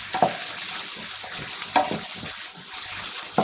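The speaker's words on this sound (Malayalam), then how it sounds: "കയ്പ്പയ്ക്ക നന്നായിട്ടൊന്ന് ഇളക്കാം." Bitter gourd is stirred while it fries in a pan: continuous sizzling with several sharp scraping strokes of a spoon against the pan at irregular intervals, up close.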